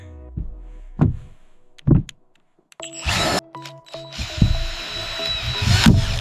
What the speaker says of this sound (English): So now we are on top of the roof, screwing down the decking.